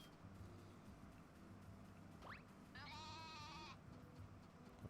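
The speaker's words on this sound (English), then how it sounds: "Don't you yell at me, sheep." A single sheep in a barn lets out one wavering bleat, fairly faint over a low steady background hum, with a brief squeak just before it.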